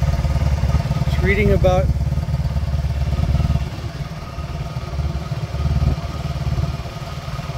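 A 1997 Honda Magna motorcycle engine, a California model, idles with a steady low rumble that continues throughout, while someone talks over it at close range.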